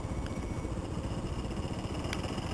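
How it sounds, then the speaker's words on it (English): A propeller plane engine drones steadily on the runway in a Pearl Harbor video game. The rumble is loud and continuous, with faint clicks on top and no voices. "So we're sitting on the runway, and I'm going to increase the throttle."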